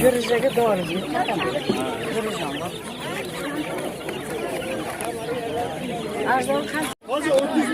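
Chickens, hens and roosters, cluck and chatter steadily at a busy poultry bazaar, close and continuous, mixed with the murmur of nearby voices and market bustle.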